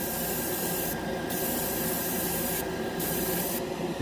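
Steady hissing spray of a GSI Creos Mr Hobby Procon Boy SQ single-action airbrush running continuously, with a few brief bursts of brighter high hiss layered on top.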